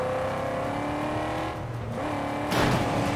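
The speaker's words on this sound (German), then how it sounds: "Jetzt muss ich aber Gas geben" A car engine revving and accelerating in the Mad Max video game, a steady loud drone that dips briefly and then surges with a sharp burst of rising noise near the end.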